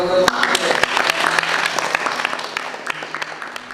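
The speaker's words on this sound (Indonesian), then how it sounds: "Tepuk tangan dulu untuk" A classroom group claps together in dense, steady applause during a teaching-practice lesson on Islamic prayer, loud and close at first and then thinning slightly as it continues.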